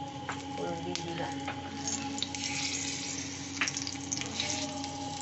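Bengali phoron tempering spices crackle in hot oil, then chopped onions go in and sizzle, a close, steady frying hiss with sharp pops and spits and a faint hum underneath.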